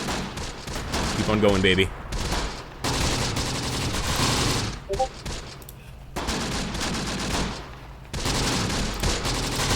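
Sustained bursts of gunfire rattle through a Close Combat: The Bloody First multiplayer battle, dense volleys broken by short pauses, with someone talking over the shooting.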